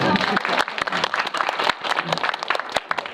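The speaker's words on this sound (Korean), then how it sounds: "자, 박수 한번 쳐주세요." An audience at a film screening Q&A claps, the applause thinner and choppier with distinct individual hand claps standing out, pulsing unevenly through the whole stretch with a voice briefly mixed in.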